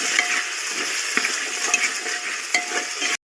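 Curry leaf sputtering in hot oil for a soft khichdi, a steady close crackling sizzle with a few sharp pops along the way, no voices.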